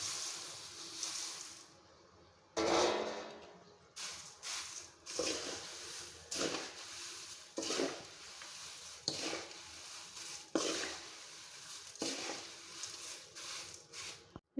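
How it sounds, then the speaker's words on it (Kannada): Beaten rice (avalakki/poha) stirred in a pan, a series of rhythmic scraping, rustling strokes a second or so apart, fairly close and moderately quiet. "ಈಗ ಅವಲಕ್ಕಿ ಹಾಕಿ ಮಿಕ್ಸ್ ಮಾಡ್ಕೋಬೇಕು"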